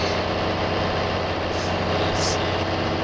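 A 1960s farm tractor idles steadily with a deep, continuous low rumble and a faint mechanical hum, close and unchanging throughout with no talking.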